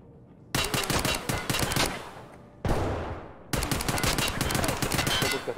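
Rapid bursts of automatic gunfire in the video game Escape from Tarkov, loud and close, with brief pauses between volleys and sharp cracks repeating in quick succession.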